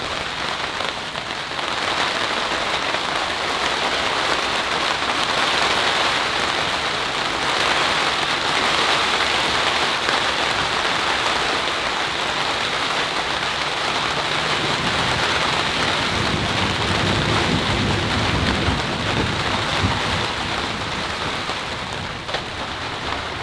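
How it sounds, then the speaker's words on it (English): Rain falls steadily on outdoor surfaces beside a bonsai plant room, a dense, continuous patter that holds at an even, fairly loud level from start to finish, with no voices. "The rain has come."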